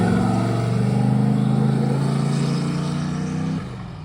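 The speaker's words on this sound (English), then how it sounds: "we took the truck for its maiden voyage, just a quick little down the road and back." A turbocharged LS-swapped S10 race truck drives on its first short road run, its engine droning loud and steady with a low rumble and whine that drops off sharply near the end.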